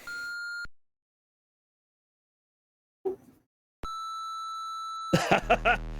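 An electronic device gives two long, steady tonal beeps separated by a gap, with a brief faint thump between them, ending in a short burst of louder clattering.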